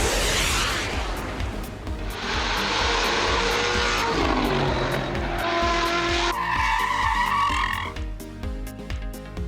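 Indy 500, the 1977 Atari 2600 racing game: a loud, buzzy electronic engine drone that shifts pitch as the car speeds up and slows, with steady ticking pulses and squealing skid tones. No talk.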